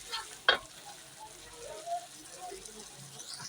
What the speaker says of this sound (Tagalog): Nagisa ko na yun siya guys, ang curry powder niya.